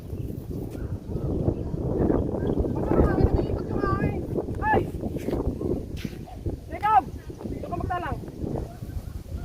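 Wind gusts and rumbles against the microphone in a steady low roar, with voices calling out over it.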